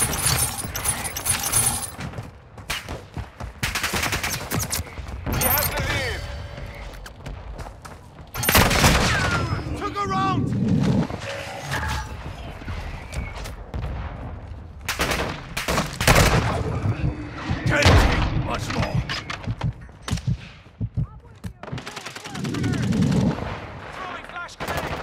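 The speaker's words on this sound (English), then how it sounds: "Hostile mortar strike in the area." Dense gunfire and heavy explosions from a mortar strike ring out in the Call of Duty: Modern Warfare II video game, with loud bursts and booms continuing throughout and brief voice callouts mixed in.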